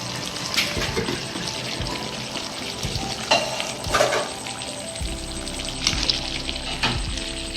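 Chicken and tomatoes fry together in a pan, bubbling in their own released juices with a steady sizzle and occasional clanks of a stirring spoon, close by.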